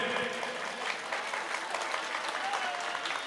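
An audience at a Hindi-Urdu shayari poetry recital gives sustained applause, a dense, even patter of many hands that holds at a moderate level without a break.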